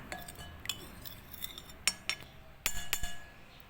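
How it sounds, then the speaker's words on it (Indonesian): A utensil stirs sago starch and water on a plate, making scattered light clinks and scrapes against the dish at close range, with a few sharper taps. "Kemudian kita tambahkan air sedikit, kita aduk rata."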